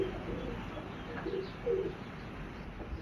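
A female Chapra pigeon gives a few soft, low coos near the middle, faint against a steady background hum.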